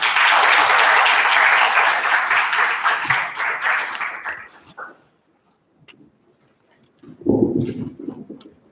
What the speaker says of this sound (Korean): 박종원 교수님 큰 박수로 청해 듣겠습니다.